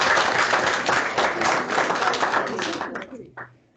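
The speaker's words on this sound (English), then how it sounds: "Can we give you a huge round of applause?" Audience applause at a policy brief launch event, dense sustained clapping from a crowd that holds steady, then thins out and fades near the end, with a brief sound at the close.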